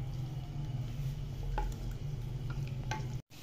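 Garlic and ginger fry in a pan for chicken karahi with a steady, close sizzle, broken by occasional scrapes of stirring.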